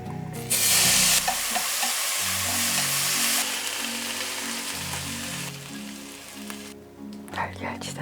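Garlic chives stir-fried in a pan with their heads briefly cooked, a steady sizzle with spatula scraping and stirring, loud bursts then softer frying, with speech in the background.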